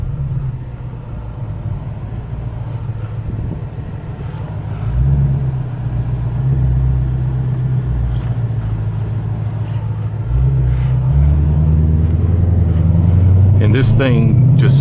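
Ford Mustang Shelby GT500 with its supercharged 5.2-liter Predator V8 rated at 760 horsepower, running under an automatic gearbox with a steady deep engine rumble that swells louder around the middle and end, heard close and continuously.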